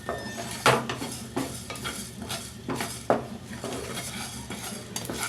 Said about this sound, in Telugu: అర స్పూన్ జీలకర్ర, అర స్పూన్ ఆవాలు వేసి వేయించుకుందాం